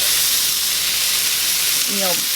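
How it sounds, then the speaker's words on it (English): Frozen vegetables hitting a pan of sizzling onions on the stove for cottage pie give a loud, steady frying hiss and crackle, with a brief voice near the end. "I'm going to go ahead and add in my frozen vegetables."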